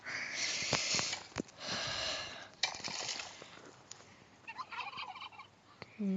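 Turkeys in the Last Day on Earth: Survival game gobble repeatedly in quick, rattling bursts spread across several seconds, with faint snorting sounds in between.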